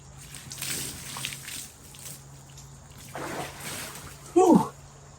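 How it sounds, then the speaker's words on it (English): A head dunked into frigid outdoor water, making one short, close, loud splash near the end, after a stretch of quiet rustling and faint murmuring. "Do my daily head dunk."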